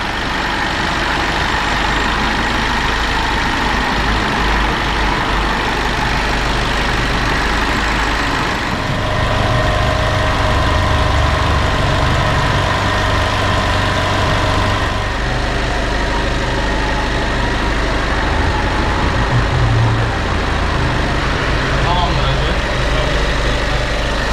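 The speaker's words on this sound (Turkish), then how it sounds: "motorun marşına bastık. Herhangi bir sorun yok." A Super B car engine, freshly fitted with cleaned injectors, runs at a steady low idle after starting, a continuous close rumble with a slight shift in tone partway through.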